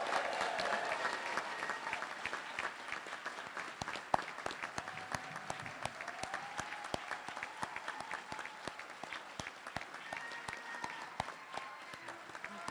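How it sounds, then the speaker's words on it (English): Applause for graduates at a doctoral hooding ceremony: steady, sustained clapping from a seated audience in a hall, fairly soft and distant, with a few sharper individual claps standing out. "Let's have one last round of applause for all of the graduates."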